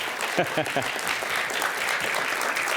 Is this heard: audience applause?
yes